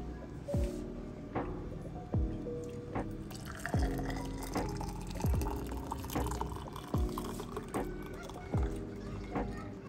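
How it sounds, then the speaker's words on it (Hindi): Tea is poured through a strainer in a dhaba-style kitchen: a steady trickle and drip of liquid with soft repeated taps against the strainer, close and fairly quiet. "तो चलिए इसको छान लेते हैं चाय को।"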